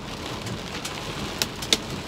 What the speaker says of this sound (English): downpour of hailstorm